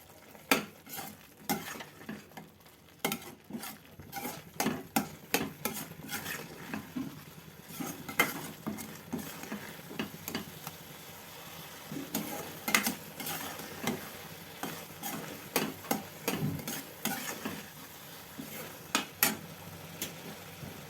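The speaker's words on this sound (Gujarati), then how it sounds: "થોડીક વાર પકાવશું એટલે આપણો ગાજરનો હલવો છે એ રેડી થઈ જશે." Carrot halwa cooks in a pan while a spoon stirs it repeatedly, giving a steady run of scraping clinks and knocks against the metal over a soft sizzle, close and without talk.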